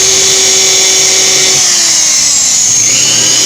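A power drill bores steadily through the counterweight of a Zhiyun Smooth C 3-axis phone gimbal, a continuous close whine with no talking that eases off and shifts pitch about halfway through.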